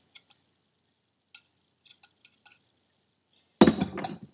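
Oil squirted into a Saab 9-3 TD04 turbocharger during a rebuild: a few faint, sparse drips and small clicks, then a sudden loud wet squirt that continues briefly to the end.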